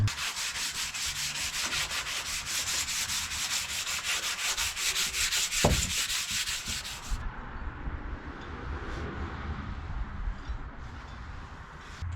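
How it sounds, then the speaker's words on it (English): Super fine grit sandpaper is rubbed over a wooden fireplace mantel beam in quick, rhythmic back-and-forth strokes, close and steady. Softer, slower rubbing continues after a brief knock. "I'm gonna go ahead and lightly sand it with some super fine grit sandpaper"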